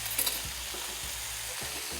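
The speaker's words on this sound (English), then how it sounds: "So I'm going to add my onions." Onions hit a pan of browning chicken for chicken Marengo and sizzle steadily, with a couple of soft clinks at the start and a low hiss underneath, no speech.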